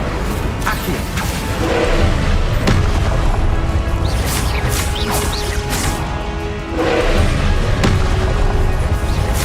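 An Incendio fire spell is cast in Hogwarts Legacy, giving loud whooshing bursts and booming impacts that repeat over several seconds, with flaring crackle and game effects throughout.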